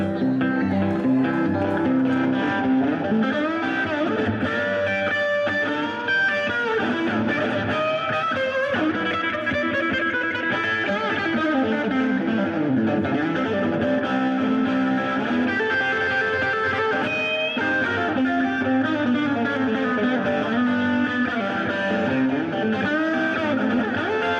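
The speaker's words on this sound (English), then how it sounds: "What happens if I hit a distortion pedal" A heavily distorted electric guitar plays continuously, thick and buzzing with sustained chords and riffs, loud and close.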